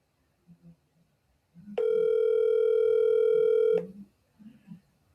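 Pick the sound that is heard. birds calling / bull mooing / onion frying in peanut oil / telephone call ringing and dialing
telephone call ringing and dialing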